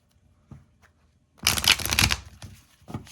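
Tarot cards are shuffled in a quick riffling burst of papery flutter, preceded and followed by a few soft card taps and handling clicks, close and fairly quiet.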